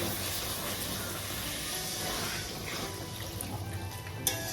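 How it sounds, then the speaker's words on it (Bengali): Water poured in a small amount into a pan of kochur loti (taro stolons) cooking on the stove, a steady soft hiss and trickle running throughout with a brief clink near the end. "আমি এখন দিয়ে দিচ্ছি সামান্য পরিমাণে জল"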